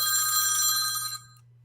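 A mobile phone rings with a bright, tinny electronic tone for about a second before it cuts off, leaving a faint low hum; moderately close, with no speech.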